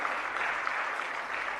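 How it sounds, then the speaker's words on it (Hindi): An audience bursts into applause at a devotional gathering. The clapping is steady and dense for just under two seconds, at moderate distance, with no voices over it. "बस एक बार तालियां बजा दीजिएगा"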